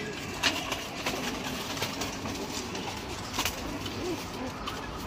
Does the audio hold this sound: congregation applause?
no